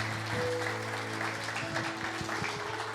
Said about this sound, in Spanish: Dele un aplauso fuerte a Cristo.